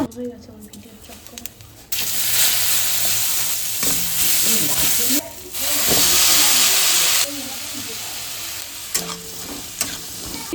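Fish curry sizzles and hisses loudly in a hot pan, with steam rising and occasional stirring scrapes in a home kitchen.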